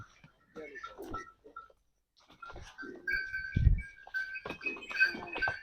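Goats bleat intermittently at close range, mixed with people talking nearby and some farmyard shuffling.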